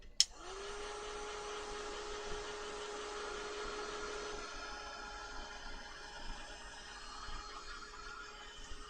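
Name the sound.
drying a craft coffee cup piece with a heat tool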